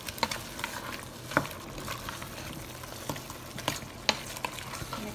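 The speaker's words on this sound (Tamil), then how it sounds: "நல்லா மிக்ஸ் பண்ணி விடுங்க." Ginger, garlic and spices being stirred in a pan for a Sri Lankan chicken curry make a low frying sizzle broken by sharp spoon scrapes and clacks against the pan, with no talk.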